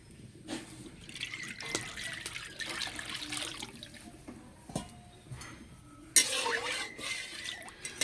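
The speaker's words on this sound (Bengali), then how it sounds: "এই 1 লিটার দুধটা কড়াইয়ের মধ্যে ঢেলে নেব।" One litre of milk is poured into a wok in a soft, uneven liquid stream, with a few small clunks and a louder splash near the end.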